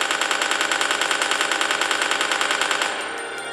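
Video game gunfire, a fast even stream of automatic shots, loud and close, that stops abruptly near the end, leaving a quiet tail.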